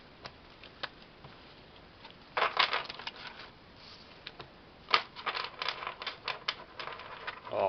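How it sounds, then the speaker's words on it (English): Playing cards for the board game Museum Rush riffle shuffled, two rapid flurries of close, crisp clicking after quiet scattered ticks. "you can riffle shuffle,"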